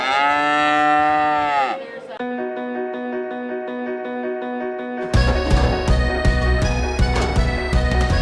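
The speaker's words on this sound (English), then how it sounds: "This is Heidi. She is a brown Swiss" A Brown Swiss dairy cow moos in a long, loud, drawn-out call nearby in a dairy barn, followed by other sustained tonal sounds.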